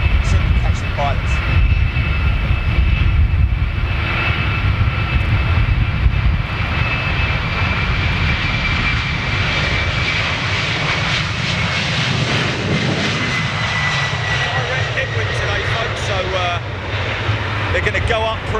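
Jet engines of a Boeing 747 on its final flight roar at takeoff, a loud sustained rumble with a high whine that slowly shifts pitch for the whole stretch, while people talk faintly beneath it.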